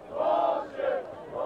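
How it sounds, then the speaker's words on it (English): A sports crowd at a high school powderpuff football game, Revere vs. Winthrop, lets out a swelling murmur of disapproval over a penalty flag, rising and falling in two waves across a brief moment. "The crowd definitely doesn't like that call."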